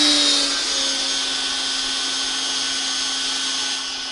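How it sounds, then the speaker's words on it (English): A CNC router spindle runs steadily at high speed, a sustained whine with strong tonal harmonics while carving a hole in a SuckIt dust boot for a Festool hose, loud and continuous with no talking. "I'm going to go ahead and turn on the spindle."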